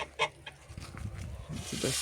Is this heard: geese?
yes